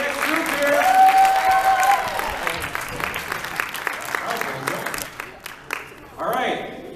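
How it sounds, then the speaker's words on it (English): An audience at an improv comedy show applauds and cheers for a duo taking the stage, loud clapping with whoops that tapers off, followed by scattered voices and brief talk. "Give a big round of applause for our next group here."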